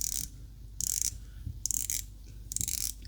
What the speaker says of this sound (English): this is a 120 click bezel.